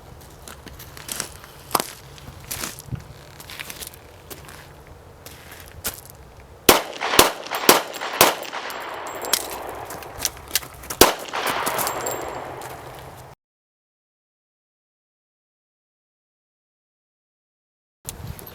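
Gunshots during a reload-and-fire demonstration crack out as sharp, irregular reports, some sparse and then a dense rapid volley, amid clanks and outdoor noise, before the sound cuts to silence.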